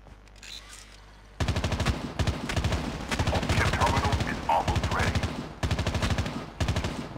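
Rapid automatic gunfire in Call of Duty Mobile, loud dense bursts starting after a quiet opening and continuing with short gaps, close and dominant throughout.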